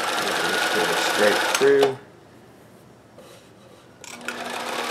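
Singer 431G or Kenmore 158 sewing machine chain stitching at about 10 stitches per inch, a steady near whirring run for two seconds that stops, leaving quiet before faint rubbing resumes; a voice speaks briefly.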